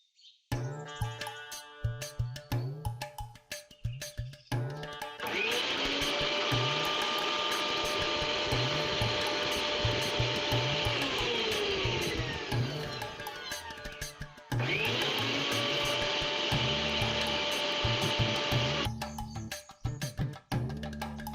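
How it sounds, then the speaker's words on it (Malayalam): A kitchen mixer grinder whirs loudly in two long bursts separated by a short pause, a steady motor drone with rising and falling pitch, framed by quieter clatter and faint chirps. "അടുക്കളയിൽ ചെന്നിട്ട് ആ മിക്സി ഒന്ന് ഓണാക്കാമോ?"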